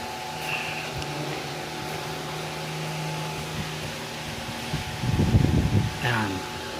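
A car's electric radiator cooling fan runs with a steady whirring hum during engine repair work in a garage. A person speaks briefly over it near the end.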